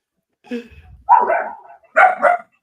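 A dog barks loudly and close by, two or three sharp barks in quick succession with a short whimpering yip before them, and no other sound.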